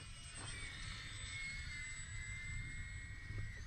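Small E-flite Micro Draco 800mm RC airplane on 3S power flying overhead, its electric motor a steady high whine that drifts in pitch over constant wind and background hiss, with no one speaking.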